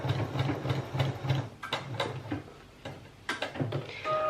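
An overlocker stitches seams in fine Tencel fabric with a fast mechanical whir and regular ticking pulses, pausing briefly partway through and then starting up again, loud and close by.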